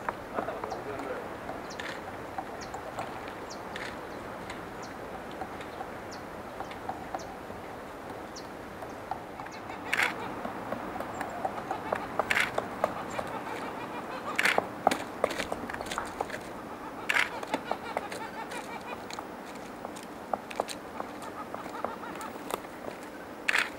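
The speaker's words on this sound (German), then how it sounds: "Im vor uns liegenden Wald hören wir das Klopfen von Spechten." Woodpeckers knocking in a Patagonian forest near Fitz Roy, sharp irregular taps spread through the clip, some close and crisp, others faint, with someone speaking quietly over the quiet woodland background.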